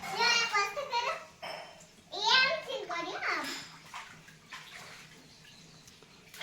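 Water runs into a washing area whose drain has been blocked with a sandal, making a soft continuous splashing flow under louder children's voices talking and calling close by.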